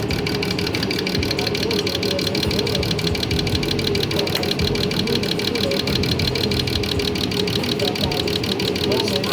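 Diesel fuel injectors running an idle test on a test bench, a fast, steady mechanical ticking pulse that stays loud and even throughout with no pauses.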